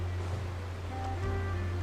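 Waterfalls in the game Genshin Impact give a soft, steady rushing wash of water, faint and continuous, with a low hum underneath and no talking.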